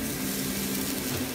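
Food frying on an open stove in a Kyoto restaurant, a steady close sizzle with a low hum of kitchen machinery underneath and no voices.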